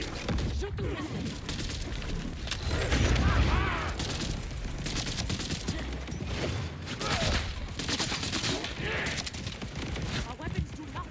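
Heavy gunfire and explosive missile blasts in a chaotic Borderlands 4 boss fight, dense and loud continuous bursts layered with impacts and crashes, with a voice speaking intermittently over the action.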